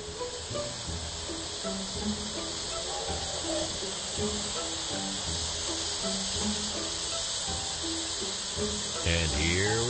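A steam locomotive hisses steadily as the throttle sends steam to the cylinders, a continuous loud broadband hiss with mechanical clanks underneath and a brief rising sound near the end.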